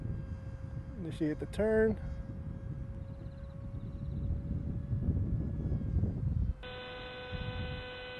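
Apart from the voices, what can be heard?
model aircraft engine at full throttle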